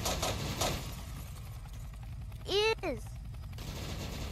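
Machine gun fire in a video game comes as a dense burst of rapid shots over roughly the first two seconds, loud and close, with a short spoken exclamation near the end.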